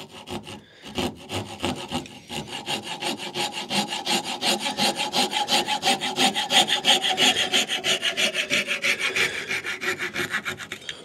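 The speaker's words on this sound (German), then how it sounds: "Sägen den ab." A hand saw cuts through a wooden piece clamped in a vise in steady, rhythmic back-and-forth strokes, close up and loud, with no talking.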